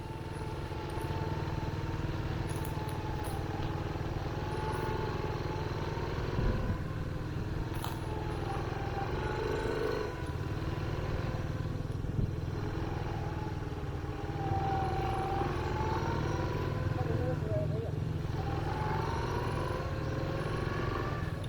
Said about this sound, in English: Now we are doing a quick loop on the motorbikes around the camp to see if there's anything we missed.